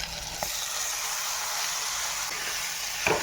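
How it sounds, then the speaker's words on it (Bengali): Pointed gourd seeds with chopped onion, salt and a little tomato sautéing in a pan, a steady close sizzle throughout with a couple of brief stirring scrapes. "সব কিছু ভালো করে কষিয়ে নেব।"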